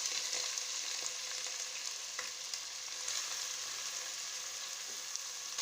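Medium onions cut in omelette-style pieces fry in a pan for potato egg curry, producing a dense, even sizzle with occasional faint stirring ticks and no voices.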